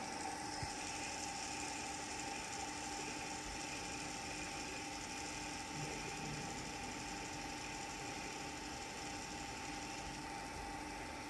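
A TOS FNK 25 vertical turret milling machine runs its spindle at 560 rpm, giving a steady, even mechanical whir and hum that holds unchanged throughout, with no talking.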